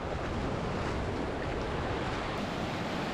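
Surf washing onto a long sandy Caribbean beach in the Dominican Republic, a steady broad roar of waves with wind buffeting the microphone, no voices.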